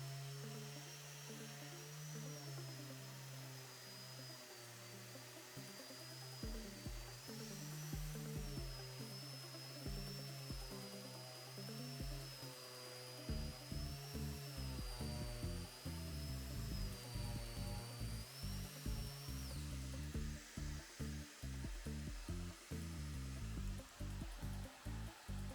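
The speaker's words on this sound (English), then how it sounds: "The final and always loved task of sanding the boards to a nice finish, as some of them still had the marks from the planer in them" A power sander whines over wooden boards to smooth out planer marks, a continuous motorized hum with a high tonal whine, shifting into rapid rhythmic pulsing as the tool moves across the wood, sustained and close.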